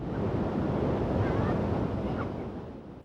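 Ocean waves wash steadily onto a Bali surf beach, a loud, continuous roar of surf mixed with wind noise that fades slightly toward the end.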